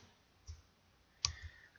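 Keyboard keys pressed during Blender 3D modelling: two faint, sharp clicks about three-quarters of a second apart, isolated in a quiet room.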